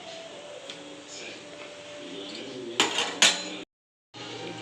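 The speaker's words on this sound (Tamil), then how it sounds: "இப்போ மூடி வச்சிடலாம்" Metal lid set onto a pot of simmering egg gravy in a kitchen, two close clanks in quick succession over a steady background hiss.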